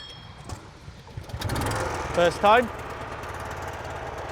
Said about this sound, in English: So to start the engine, give it one good pull.